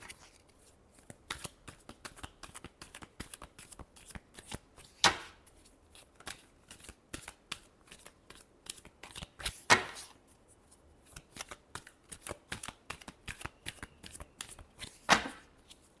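Tarot cards being shuffled close by in a long run of quick riffling and sliding bursts, with a few sharper louder snaps along the way, no voice present.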